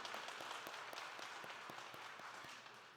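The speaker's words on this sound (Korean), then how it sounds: "박수를 좀 크게 해주시기 바랍니다." Steady applause from a church congregation at an early-morning service, many hands clapping continuously at moderate volume for a few seconds.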